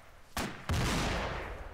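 A satchel charge detonating in the combat game ArmA 2: two sharp, loud blasts in quick succession, the second followed by a long rumbling decay.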